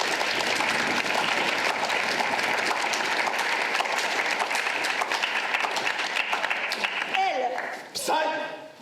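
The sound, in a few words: audience applause for improv team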